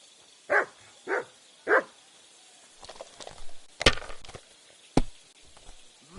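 Three short dog barks sound close together early on from a dog in Kingdom Come Deliverance 2, followed by scattered thumps and clatter, with one sharp crack near the end.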